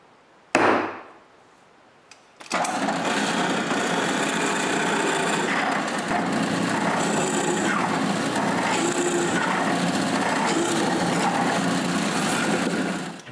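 A sharp knock from punching a divot is followed by a steady, loud drill grinding a center pivot hole into a wood frame piece for a tool cart, running continuously without pause.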